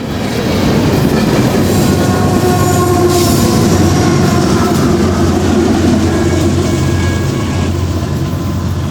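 An empty northbound coal train of 128 cars, led by two AC4400CW locomotives, rumbles past loudly and close, with a constant roar of wheels and faint squealing tones over the rail noise.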